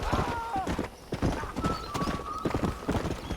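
Horse hooves clip-clopping in the video game Red Dead Redemption, in a steady rhythm at close range, with a brief whinny and some background sounds.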